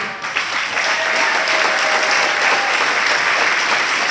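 Sustained audience applause at a community awards night fills the whole stretch, dense and steady at fairly close range, with no talk over it.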